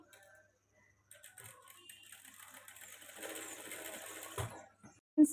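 Sewing machine stitching two pieces of cloth placed opposite each other while making thread piping; a quiet, steady mechanical whir with fine rapid ticking that builds in the middle and ends with a couple of sharp knocks.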